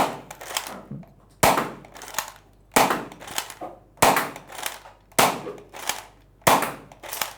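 A Buzzbee Thundershot toy dart gun fires six times at steady intervals of about a second. Each shot is a loud, sharp snap followed by a brief hiss, close up and alone.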